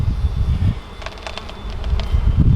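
Bees from a hive inside a yucca tree buzz in a close, steady drone, with a few sharper wingbeat bursts rising in the middle of the short stretch and low rumbling handling noise around them.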